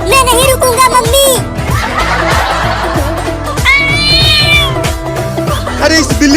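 A cat meows repeatedly in loud, drawn-out cries, some rising and falling, mixed with voices, laughter and playful background music in a comedy scene about a mother cat chasing a boy.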